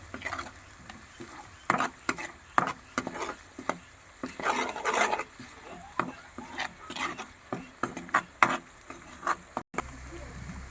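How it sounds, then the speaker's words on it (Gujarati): Turmeric and asafoetida stirred in hot oil in a pan while cooking sing bhajiya shaak, giving repeated scraping spoon strokes over a steady low sizzle, close and moderately loud. "હવે આને હલાવી નાખશું। આ રીતની હળદરને ઘડીક પાકવા દેવું આપણે."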